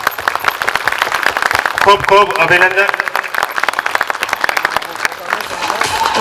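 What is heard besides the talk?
audience applauding a girl's speech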